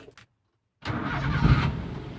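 Daihatsu Gran Max 1.5 pickup engine starting up after a brief silence, then running at a smooth, steady idle close by, with no talk over it.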